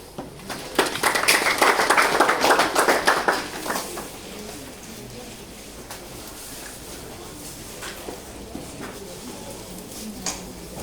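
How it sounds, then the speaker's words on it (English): A small group claps in a classroom-like setting, a dense burst of hand claps for about three seconds, then a few scattered claps that trail off into room noise. "I think we should clap for all of them."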